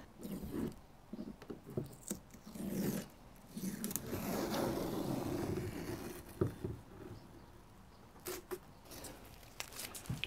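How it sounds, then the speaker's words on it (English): A sharp knife slices along excess tape overlapping the wood binding of a handmade guitar, giving faint, close scratchy cutting strokes in short bursts with brief pauses between them and no speech. "come back with a sharp knife and just cut right along"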